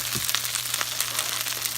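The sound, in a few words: pork stir fry sizzling in a pan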